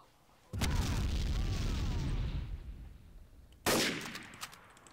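Two loud sniper shots in the Trouble in Terrorist Town game. Each is a sharp blast followed by a long rumbling decay, about three seconds apart, with faint talk in between.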